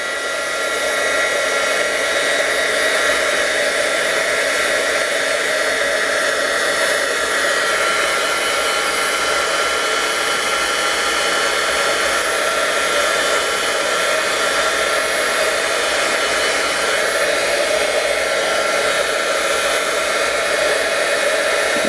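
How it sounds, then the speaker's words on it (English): A heat tool blows steadily to dry stamped ink on cardstock for an emboss resist technique, a loud, continuous whirring hiss that holds unchanged for the whole stretch, close by and alone without talk. "Or quick way is to heat emboss it, or to heat dry it"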